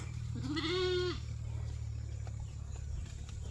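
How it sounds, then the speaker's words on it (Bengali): A single sheep bleats once, close and clear, as a flock grazes outdoors, followed by steady low background hum with no talking. "এই যে ভেড়াগুলো সব দেখতে পাচ্ছেন, এখন ঘাস খাওয়ার গেতেছে।"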